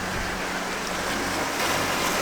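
Ocean waves rushing in on the Donegal coast, a steady broadband roar of surf that swells slightly toward the end, with no voices.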